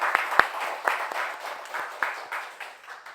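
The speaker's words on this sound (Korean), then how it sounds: "우리 그 주님께 영광의 박수 한번 올려드릴까요?" A church congregation gives a short round of applause to the Lord during a Sunday service, scattered claps with a few sharp louder hits, moderately near, thinning out over a few seconds.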